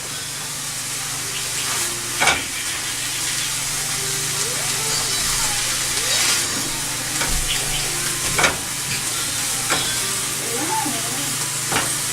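Chicken with a little sauce sizzles in a hot pan for quesadilla filling, a steady frying hiss punctuated by several sharp utensil scrapes and clacks, with faint voices murmuring in the background.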